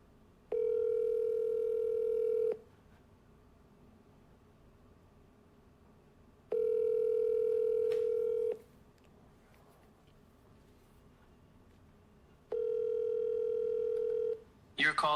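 A phone call rings out over a speakerphone: three long, steady ringback tones, each about two seconds, separated by quiet pauses, clear and close.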